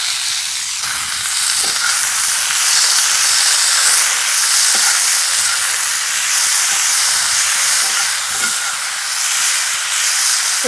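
Chopped carrot, onion, beans and green chilli with salt frying in a pan for hand-cut noodles, giving a steady, close, continuous sizzle and hiss with small crackles throughout, no talking.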